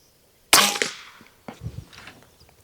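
A single sharp crack from a Macavity MA2 .25 caliber air rifle fired at a 50-yard target, close and loud, followed by a short decaying tail and faint metallic clatter.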